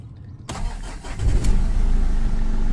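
A used car engine, only slightly warm, starts after a brief crank, then settles into a steady loud idle close by.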